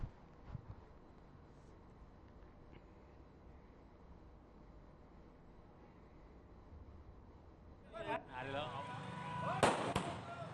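Fireworks crackle and burst at a BJP victory celebration at Jhanda Chowk in Jaspur, Uttarakhand. A low murmur comes first, then a cluster of loud, close crackling bangs near the end.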